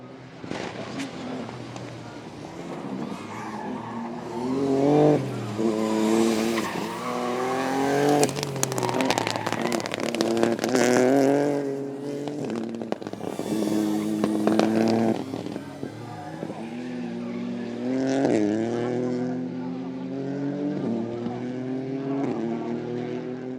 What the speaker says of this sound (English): The rally concluded with 2 spectacular racetrack stages, where drivers raced side by side in pursuit of the fastest times.